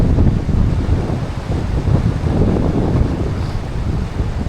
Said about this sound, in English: We got wind.